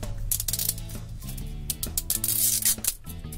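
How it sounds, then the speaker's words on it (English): A zipper on an LOL Surprise Pikmi Pops toy package is pulled down in a close, rasping run of quick ratcheting rubs, with tonal music playing underneath. "Let's pull down our first zipper."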